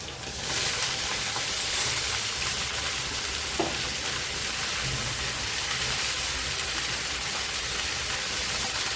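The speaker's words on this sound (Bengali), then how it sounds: "আমি এখন সেদ্ধ করে রাখা পাতাকপিটা দিয়ে দিচ্ছি।" Boiled cabbage hitting a hot pan after fish heads were fried, a loud, steady broadband sizzle that swells in and holds for several seconds, with a brief clink partway through.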